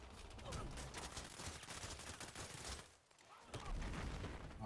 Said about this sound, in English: There's people shooting us.